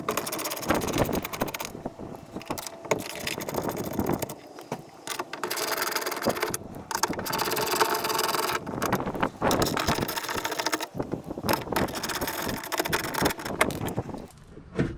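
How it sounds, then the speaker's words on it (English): Bolts are backed out of the inside of a 2015 Nissan driver's door while replacing the window regulator and motor: close, steady ratcheting and metallic clicking in long runs with a few short pauses. "So I'm going to be removing these bolts."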